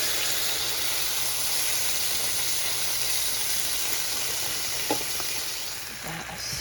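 Garlic and herb pasta sauce sizzles and hisses steadily in a hot pan while being stirred, a continuous close frying sound with faint scraping near the end.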